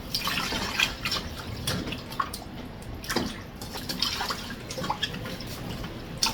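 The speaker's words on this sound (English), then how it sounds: "we're going to give it 2 more washes with just water" Raw chicken being washed under running water for jerk chicken: a continuous trickling stream with irregular splashes and drips as the meat is handled, moderately close and fairly quiet, no voices.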